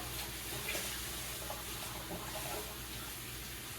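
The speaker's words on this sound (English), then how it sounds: "Now, I'm going to rinse everything off." Water runs steadily from a tap to rinse things off. The noise is a continuous, fairly soft wash with faint clatter underneath and no talking.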